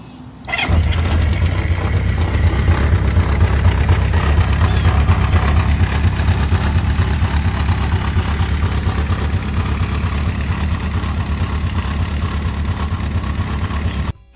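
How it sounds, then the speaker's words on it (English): A vintage Honda CB550F motorcycle engine starts and then idles steadily for over ten seconds, a loud, close, even low-pitched rumble that stops abruptly at the end, with no talk. "this CB550F is the type of vintage Honda collectors love"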